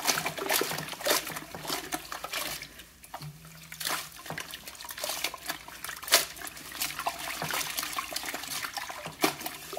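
A knitted bag being felted by hand in water gives close, irregular sloshing and splashing, with dribbles and drips breaking through in uneven bursts.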